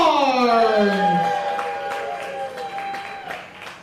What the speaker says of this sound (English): give a round of applause for Pittsburgh's favorite jagoff, Austin Cairns!